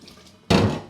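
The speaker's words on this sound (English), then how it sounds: "There we go, a bit of cold tap water." Cold tap water gushes on suddenly for homebrew equipment sterilising. A quiet clink comes first, then the water runs close and loud.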